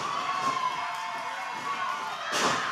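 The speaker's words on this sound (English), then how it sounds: "The crowd fired up as well" Crowd at a live OVW pro wrestling match cheering and shouting steadily throughout, with a louder swell of cheers near the end.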